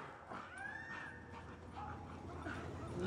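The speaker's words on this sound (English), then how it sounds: "The puppy wants to play, but he's scared." A puppy and other dogs playing, with whimpers and yips from the puppy rising over a steady background of dog noise and movement, fairly close.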